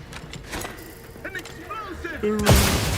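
An explosion in the video game Outer Worlds 2 erupts as a loud, sudden blast late in the moment. It follows a busy stretch of combat effects and mechanical whirs, and it leaves a roaring tail.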